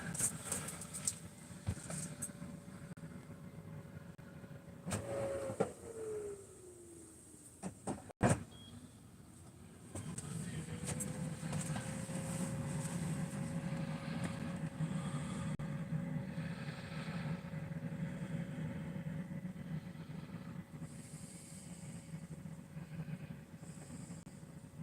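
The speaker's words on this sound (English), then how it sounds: "This is the sand art table I was telling you about, Sybil." Drift Hometics motorized sand art table running, a steady low electric motor hum with a faint whine that dips and recovers around a sharp knock, continuous and fairly quiet.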